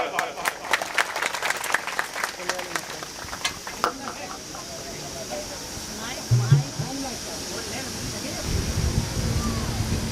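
An audience at a Hindu religious discourse claps, scattered and uneven hand claps rising and fading over several seconds, somewhat distant, with crowd murmur and outdoor background noise.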